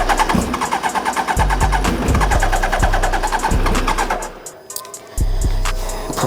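A Suzuki Hayabusa 1300 motorcycle, left sitting for over ten years, cranks with choke on and catches, its engine sputtering loudly and unevenly before a brief drop and a return to a rough, steady run.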